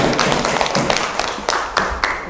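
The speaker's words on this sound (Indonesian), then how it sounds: "tepuk tangan dulu dong" A group claps hands in a classroom-style session, a short ragged burst of separate claps and taps, close and moderately loud, with no talking over it.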